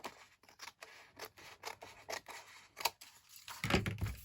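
Scissors cut around the sides of a paper tag, a close, quiet series of crisp snips and rustles at an irregular rhythm, louder rubbing paper at the end.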